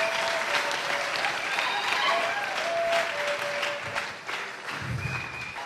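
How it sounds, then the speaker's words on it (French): A church congregation applauds loudly and steadily during a worship service, dense clapping filling the whole stretch with a slight dip near the end. "Beti liso maboko makasi."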